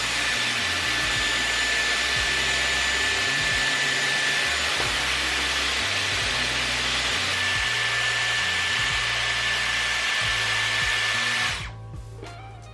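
A Dyson Airwrap hair styler blows a loud, steady whirring rush of air for about eleven seconds, with a high motor whine on top, then cuts off abruptly near the end.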